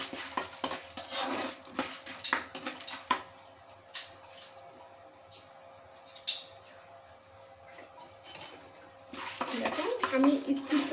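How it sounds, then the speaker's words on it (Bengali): Corn kernels being stirred with a utensil in a hot pan for popcorn, giving scraping and clinking of metal on the pan, with a light sizzle that grows busier toward the end. "এখন এর মধ্যে ভুট্টা দিয়ে দেবো। আমি দুইবার করে ভেজে নিব, একবারে দিলে অত সুন্দর হবে না। এবার একটু নেড়ে দিতে হবে।"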